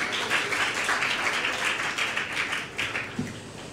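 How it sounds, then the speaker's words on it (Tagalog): A church congregation claps steadily for a few seconds, a dense, even wash of applause from many hands at moderate loudness, with no voices over it. "Palakpak muli natin ang pinakamamahal na may Jesus."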